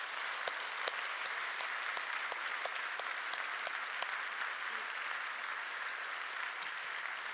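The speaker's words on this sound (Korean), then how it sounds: "은혜 받으시다고 우리 격려의 박수 한번 치겠습니다" A church congregation applauds at a Friday night worship service, with steady, sustained clapping from many people filling the whole stretch.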